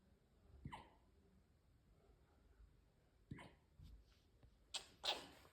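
Three faint, sharp hiccups come a few seconds apart in a quiet room, the last one followed by a soft breathy catch.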